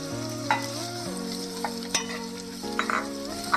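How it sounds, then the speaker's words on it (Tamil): Chopped onions and green chili sautéing in a pan, a close, steady sizzle broken by a few brief scrapes of the spatula, with a low tonal hum running underneath. "ஆனியன் ஒரு லைட் ப்ரௌன் கலர் வர வரைக்கும் வதங்கணும்."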